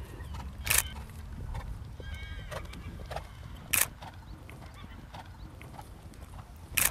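A horse moves under a rider, its hooves clip-clopping close by in an uneven rhythm. Sharp louder impacts recur every few seconds, and a brief whinny-like cry and faint talk sound in the background.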